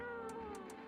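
A cat meows in the video game No, I'm Not a Human, three short, soft mews spaced evenly over a steady droning background hum, with no talk.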